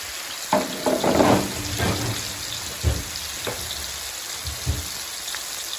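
Sea bass frying in hot oil with a steady sizzle, punctuated by occasional pops and light clatters from the pan, heard up close.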